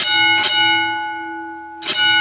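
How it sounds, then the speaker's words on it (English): A mine signal bell rings twice with bright metallic strikes, each leaving a long, ringing tone that fades slowly between the hits. "he hears a bell come out of that hole"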